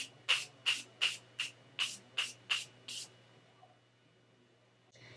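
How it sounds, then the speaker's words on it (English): Morphe Continuous Setting Spray is misted in eight quick, evenly spaced bursts, close and crisp, with a faint hum underneath. "let me use my setting spray. This is a Morphe Continuous Setting Spray."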